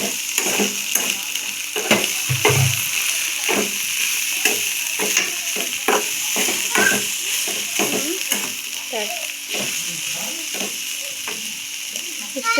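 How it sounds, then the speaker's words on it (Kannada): Okra frying in a pan with salt and spice powder, sizzling steadily while a spatula scrapes and taps repeatedly through the stir, close and clear with no talking. "ನೋಡಿ ಬೆಂಡೆಕಾಯಿ ಫ್ರೈ ಆಗಿದೆ"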